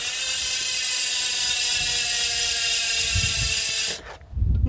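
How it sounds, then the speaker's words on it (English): A bicycle rear hub on Gravitas wheels buzzes with a continuous fast ratchet clicking as the wheel freewheels, loud and close, then cuts off abruptly near the end with a brief clunk. "we have got the hub sound"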